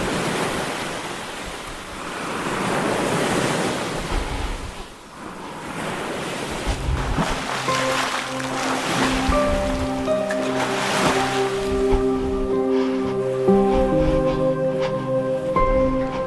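Sea waves wash over a shore in a continuous, loud surf roar with wind noise, and music gradually rises beneath the breaking water.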